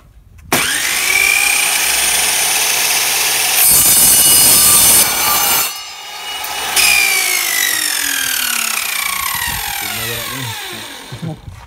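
A power saw cuts through a metal door straightening bar, a loud close grinding rasp with high screeching harmonics, pausing briefly midway and then resuming until the cut finishes.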